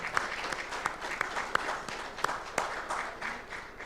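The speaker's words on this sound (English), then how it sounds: "I wish that we clap for our board." A hall audience at the GCB Bank annual general meeting claps for the bank's board, steady moderately loud applause with a few sharper individual claps standing out.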